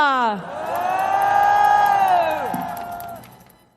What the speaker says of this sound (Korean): 큰 박수 함성으로 모시겠습니다